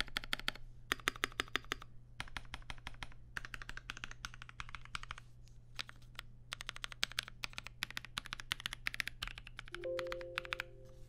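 Rapid, clacky typing up close on an Ikki Aurora 65% mechanical keyboard in uneven bursts, keys tapping quickly with short pauses, and a faint tone near the end.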